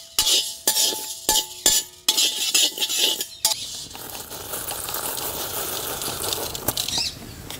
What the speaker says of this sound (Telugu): ఇదంతా 1 నిమిషం పాటు వేయించుకుని తీసి పక్కన పెట్టుకుందాం.